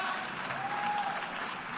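An audience claps together in a hall during a show, a dense, steady wash of applause that stays at an even level throughout the short stretch, fairly close, with a faint voice underneath.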